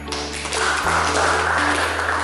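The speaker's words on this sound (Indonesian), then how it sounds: "Tepuk tangan." A group applauds in a university sociology classroom, with steady, dense clapping that swells after a brief start and continues evenly to the end, with a low hum beneath.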